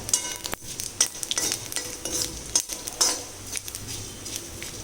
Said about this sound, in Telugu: ఇదిగోనండి వేగిపోయి అవి చట్పట్లు ఆడుతున్నాయి కదా